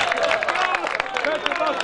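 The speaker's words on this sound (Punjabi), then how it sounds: "ਜ਼ੋਰਦਾਰ ਤਾਲੀਆਂ ਯਾਰ" Audience clapping and cheering at a Punjabi poetry recital, a dense wash of applause with crowd babble filling the whole short stretch at steady loudness.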